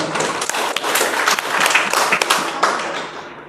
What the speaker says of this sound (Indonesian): Tepuk tangan untuk SMK Darul Putri.